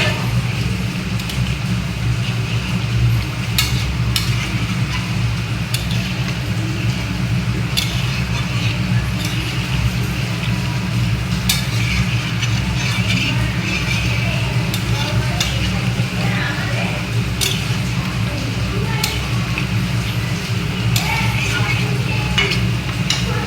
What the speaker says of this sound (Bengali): এবার আমি জল ঢেলে দেবো, গরম জল ঢেলে দেবো।